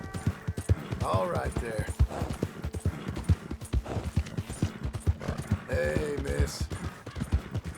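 In the video game Red Dead Redemption 2, rhythmic clip-clop of horse hooves trotting at a steady pace, close by, with someone speaking briefly over it and a soft whinny.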